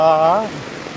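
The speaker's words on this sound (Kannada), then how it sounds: "ಈ ಮಳೆ ಎಂಥ ಮಳೆ ಇದು ಎಂಥ ಮಳೆ" Steady hiss of heavy rain pouring down, with a voice calling out loudly over it during the first half.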